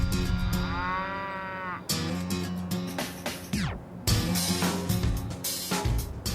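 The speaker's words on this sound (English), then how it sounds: "we're going to meet the prize-winning herd of longhorn cattle, an entire paddock of clones." A prize-winning herd of cloned longhorn cattle in a farm pen lets out long, deep moos one after another, close and loud, with overlapping bellows and varying pitch and no talk.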